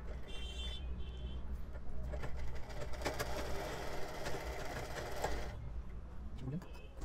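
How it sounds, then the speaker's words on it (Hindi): A sewing machine stitches the seam on a boat neck kurti, running steadily and close at hand for most of the stretch before easing off near the end, with someone speaking Hindi over it. "तो एक बार हमारी सिलाई लग गई है"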